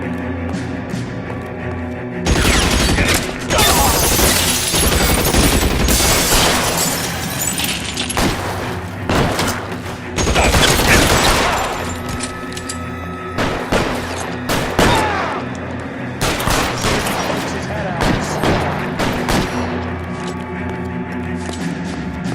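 Covering gunfire in the video game L.A. Noire: loud, heavy volleys of rapid shots come in repeated bursts with brief lulls between them, close and dominant throughout.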